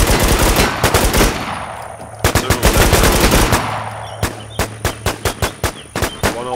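Gunfire in the zombie survival shooter The War Z: close, loud automatic bursts of rapid shots, then a steady string of single cracking shots at an even rhythm.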